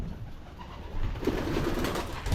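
A pigeon coos softly in a few low, throaty murmurs, with a faint background hum and no one speaking.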